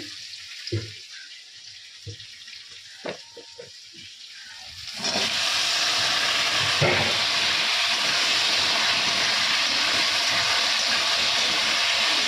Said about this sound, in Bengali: আর এখানে আমি তেলের মধ্যে 5 ফোড়ন পেঁয়াজ লঙ্কা দিয়ে দিয়েছি। সবজিটা দিয়ে দেবো এখন।